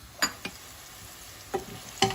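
Soft sizzling of peppers frying in oil, punctuated by a few brief scraping stirs of a utensil in the pan.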